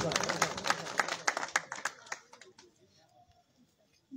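Audience clapping at a Pothwari poetry gathering, a brief burst of sharp, fairly close claps that quickly thins out and fades into near quiet.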